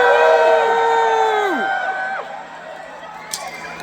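A concert crowd at The Piece Hall in Halifax, heard at a show, cheers and screams in a steady roar, with a few high whoops rising above the din.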